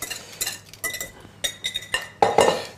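Clinking spoon and utensil knocks against a dish as ingredients with salt are mixed for braised short rib, several short irregular taps and scrapes close by, with no talking.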